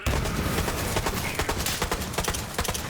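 Legendary electric-arcing weapon from Borderlands 3 firing in dense, rapid bursts, with sharp repeated cracks over a busy, loud combat din.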